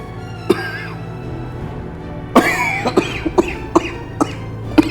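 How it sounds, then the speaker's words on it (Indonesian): A loud cough followed by a run of smaller, clipped coughs and throat sounds, close up over a low background hum. "Nggak apa-apa, cuma batuk."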